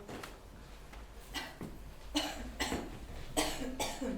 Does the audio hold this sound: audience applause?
no